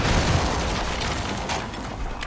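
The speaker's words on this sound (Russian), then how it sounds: "Потому что мы сейчас будем взрывать этот алтарь." A loud explosion in Far Cry 5 blows up an altar, a broad roaring blast that fills the clip and slowly rumbles down with debris-like crackle, no voices over it.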